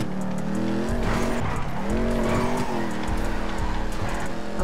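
A car on slippery wheels in GTA RP, driving with a steady engine drone while tires squeal and skid repeatedly as it slides around, loud and close, with no talk.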